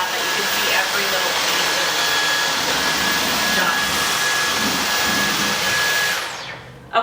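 A Dyson cordless vacuum cleaner runs with a steady high whine and airy rush close by, holding constant for several seconds before switching off abruptly.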